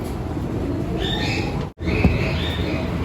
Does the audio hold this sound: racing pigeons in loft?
yes